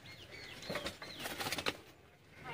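Black-faced pigeons flapping their wings and calling nearby, a faint flurry of wing beats with short coos and chirps mixed in, no talking.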